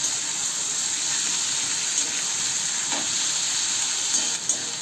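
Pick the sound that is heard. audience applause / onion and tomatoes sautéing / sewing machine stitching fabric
onion and tomatoes sautéing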